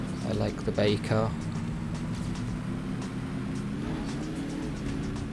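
A car engine in Trackmania United Forever drones steadily at mid volume throughout, running beneath continuous talking.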